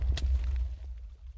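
A cannon blast in a Minecraft PvP cannon match fires once up close with a sharp, loud burst that booms low and then fades within about a second.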